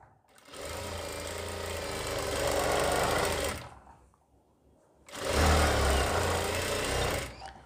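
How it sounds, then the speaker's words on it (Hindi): Sewing machine stitching the seam of an elastic-back pant with a half-inch margin, two loud sustained bursts of running motor and needle separated by a brief pause. "आधा इंच के मार्जिन से दो नीचे तक आपको सिलाई लगानी है"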